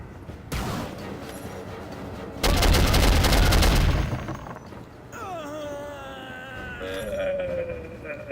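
Gunfire in the 2000 PC shooter Soldier of Fortune, with a loud sustained burst of rapid automatic fire mid-clip between rougher bursts, followed by whining synthetic tones and effects.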